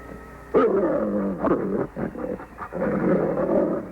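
A dog growls and snarls in low, rough bursts, loud and close, with short pauses between the rumbling runs.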